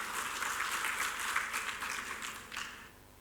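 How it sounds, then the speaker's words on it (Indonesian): Applause from the audience at an installation ceremony for a regional chamber of commerce, a short burst of steady clapping that tapers off after about three seconds. "Boleh tepuk tangan untuk beliau."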